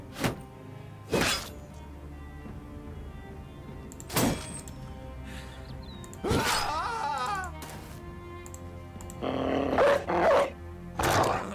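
Dog barking and growling in the Battle Brothers video game, with several short, loud bursts spread out over a droning battle soundscape and some whining sounds in between.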